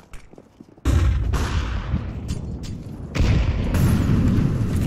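A flashbang grenade goes off in Counter-Strike, a sudden loud burst after quiet gameplay noises, followed by a sustained roaring wash of sound that swells again partway through.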